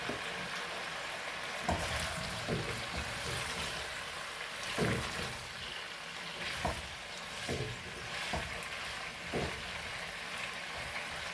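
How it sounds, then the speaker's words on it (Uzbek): Water sprinkled into a cooking pot for potatoes makes soft, faint sizzles and splashes, with several brief bursts spaced a second or two apart over a quiet background. "Suv sepamiz."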